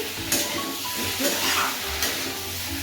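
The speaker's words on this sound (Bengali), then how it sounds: "একটু নেড়ে নিচ্ছি।" Bata fish with ridge gourd and potato sizzles in a pan while being stirred, a steady close frying hiss broken by a few scraping stirs.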